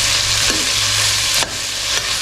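Sliced onions sautéing in a pan for a roadside-style Tamil parotta salna give a steady, close sizzle with a few soft stirring scrapes, and no talking.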